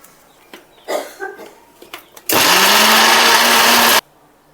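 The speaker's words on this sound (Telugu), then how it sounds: "ఇంతే వాటర్ వేసుకొని మిక్సీ పట్టుకుందామండి." Faint kitchen clatter and knocks, then a mixer grinder blending a paste with a little water for green paneer curry roars loudly and steadily for under two seconds before cutting off abruptly.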